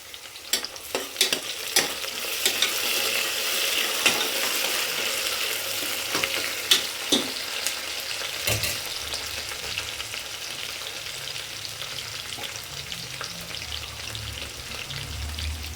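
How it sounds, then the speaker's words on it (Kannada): Sliced onions and mint leaves fry in a pan, a steady close sizzle broken by the scrape and clack of a spoon stirring, with no one speaking. "ಈರುಳ್ಳಿಯನ್ನು ಹಾಕಿದರೆ ಸ್ವಲ್ಪ ಅದಕ್ಕೆ ಪುದೀನ ಹಾಕೋಣ"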